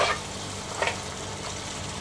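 Chopped tomatoes frying with softened onions in a pan, a steady close sizzle with a few soft stirring scrapes, no talking.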